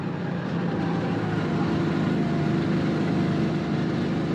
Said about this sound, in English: can you hear the sound of the kart?